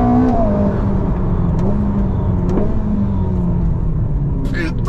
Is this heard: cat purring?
no